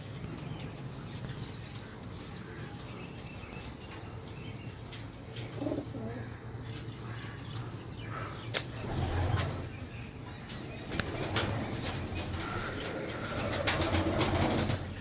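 Pigeons for sale cooing steadily at close range, with scattered chirps and occasional wing flaps over a low background hum, no talk.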